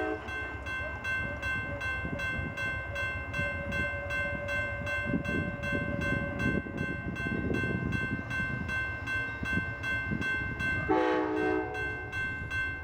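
An Amtrak P42 locomotive sounds a sustained multi-tone horn chime near the end, over the rolling rumble of a passing train on a Missouri rail line.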